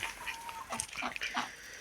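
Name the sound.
hen clucking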